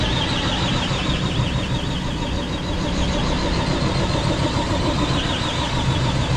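Low-revving engine of a solar panel cleaning rig in San Diego runs steadily throughout, a continuous mid-loud drone with no talk.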